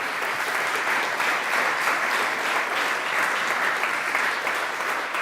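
Audience applause at an awards ceremony in Venice: dense, steady clapping from a large crowd, sustained at an even level throughout without pause.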